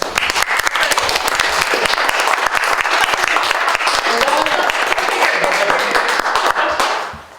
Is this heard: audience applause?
yes